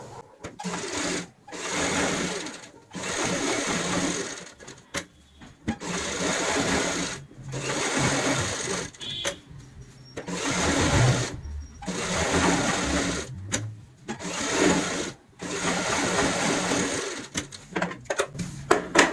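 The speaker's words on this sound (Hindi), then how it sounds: "बाहर की साइड जो हमने निशान लगाया है इसके ऊपर सिलाई लगानी होती है" Sewing machine stitching a designer cushion cover at home, a loud close whirring hum in repeated short runs with brief stops between them.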